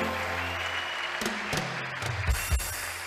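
A church congregation applauds in a dense, steady patter of many hands, with a few louder thuds and knocks near the end.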